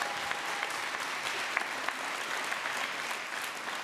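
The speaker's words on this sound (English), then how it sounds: "Give one final round of applause for Marzieh." Steady applause from an audience fills the whole stretch, dense clapping at an even level with no voices standing out.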